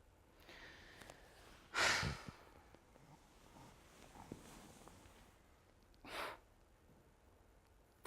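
Heavy, drawn-out breaths from a sleeping man in a drama performance, two loud rasping pulls about four seconds apart over a quiet room, rougher than plain breathing but short of a full snore.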